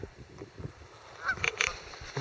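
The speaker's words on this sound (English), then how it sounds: "Some geese down here." A few geese honk at Lake Vesuvius in Wayne National Forest, Ohio, short nasal calls bunched near the end, fairly distant and faint over soft outdoor background noise.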